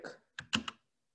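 A few computer keyboard keystrokes typing a plugin name into a QGIS search box: one soft tap, then a quick burst of two or three clicks, close and fairly quiet, followed by silence.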